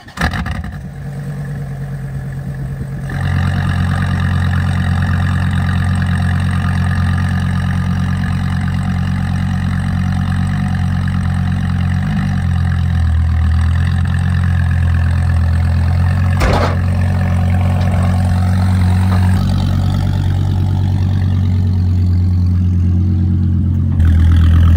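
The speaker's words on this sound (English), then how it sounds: "Kind of sounds like a old truck as well when it's idling." A car engine idles steadily and loudly for the whole stretch, a deep continuous rumble with slight shifts in tone and no voices.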